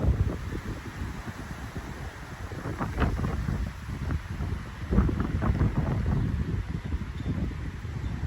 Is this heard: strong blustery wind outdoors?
yes